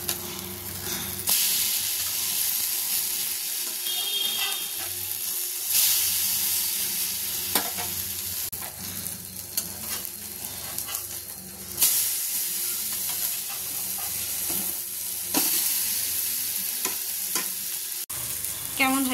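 A bread sandwich fries in a pan with a close, continuous sizzle, broken by occasional scrapes and stirring knocks as it is turned and pressed, with no talking.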